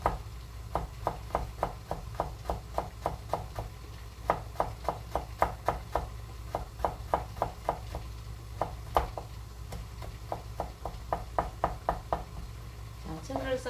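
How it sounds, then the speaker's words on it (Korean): Knife chopping on a cutting board, slicing an ingredient into fine julienne strips for rice-cake making: quick, steady runs of close, crisp taps in bursts, with short pauses between runs and faint background talk. "얘를 아주 가늘게 채를 썰어주세요"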